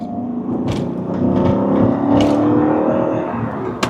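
A Porsche 928 S4 rated at 316 horsepower accelerates hard, its engine note building steadily and sustained throughout, with a brief sharp knock near the end.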